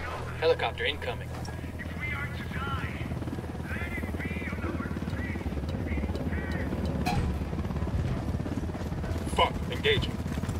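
In the video game Ghost Recon Wildlands, a helicopter's low rotor drone and rumble hold steady beneath a noisy firefight, mixed with shouted voices and scattered bursts of gunfire.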